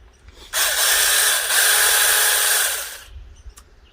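Alloyman 20V 6-inch cordless electric chainsaw running in a short burst of about two and a half seconds: a loud, steady, high whirring motor that starts abruptly and winds down, with quiet moments before and after.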